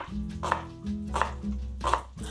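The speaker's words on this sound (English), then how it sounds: "let's cut some shallot." A knife chops through shallot on a cutting board in a few distinct, evenly spaced strokes, close and clear, with no talking.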